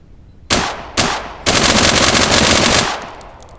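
Skorpion SMG fired in the game Deadside: two short bursts followed by a longer sustained burst of rapid automatic fire, loud and close, with a brief tail as it stops.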